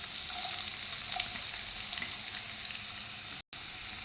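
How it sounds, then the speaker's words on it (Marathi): Onion frying in hot oil with garlic for gholachi bhaji, a continuous close sizzle with a few faint crackles and a momentary dropout near the end. "लसणाचा कच्चेपणा गेला की कांदा घालून घ्यायचा आहे."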